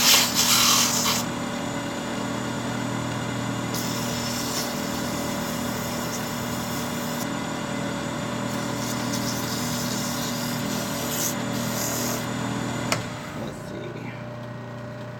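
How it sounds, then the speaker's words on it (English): A power grinder runs continuously with a steady, droning hum throughout, close and moderately loud, ending with a clunk near the end; someone speaks briefly over it. "grinder going"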